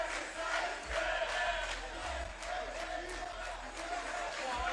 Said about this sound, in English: And a lot of cheering here for the teams as we go into the timeout.